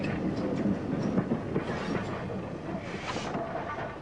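A Stroudley steam tank locomotive, built 1872–1880, working a train on a 1950s branch line toward Havant, with a continuous rolling rumble and rhythmic clickety-clack of wheels close by.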